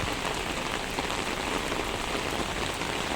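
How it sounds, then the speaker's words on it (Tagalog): Heavy rain pours down steadily, a dense, even hiss of drops striking surfaces close by, with no voices. "Kahit malakas ang ulan."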